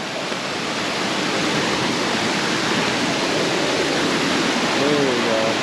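Tropical island waterfall on Siquijor, Philippines, a steady broadband roar of falling fresh water that runs loud and unbroken throughout, with no pauses or separate splashes.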